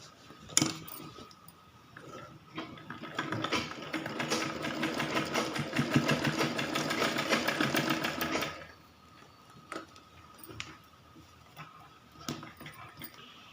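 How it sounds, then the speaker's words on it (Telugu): A sewing machine stitching baby shorts, running in a steady close whir that builds and holds for several seconds, with clicks and handling sounds before and after. "ఈ విధంగా షార్ట్ అనేది మనము ఈజీగా మనం స్టిచ్ చేసుకోవచ్చు."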